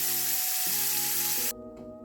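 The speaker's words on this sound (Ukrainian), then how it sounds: "кожну треба обсмажити на олії з обох сторін просто до гарного золотистого кольору" Loud, close sizzling of tomato slices frying in hot oil, a dense crackling hiss that suddenly drops away near the end.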